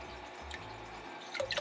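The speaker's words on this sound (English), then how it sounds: "I'm going to add some of the new water into here" Fresh water trickles and drips into an axolotl's holding container, a soft steady close pour with a few brighter splashes near the end.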